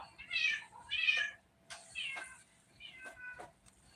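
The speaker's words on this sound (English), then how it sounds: "My cat in heat." A female cat in heat meows repeatedly, four or five drawn-out, close and fairly loud yowls with short pauses between them, heard alone without talking.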